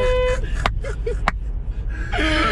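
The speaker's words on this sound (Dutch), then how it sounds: "Waarom toetert deze man?" A car horn honks in several short toots, loud and close, with voices briefly heard between the blasts.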